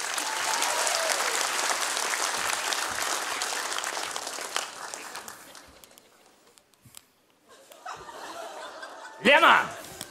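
An audience applauds at a live comedy duo show in Lviv, sustained clapping mixed with chuckles and laughter, fading out midway before a brief burst of voices returns.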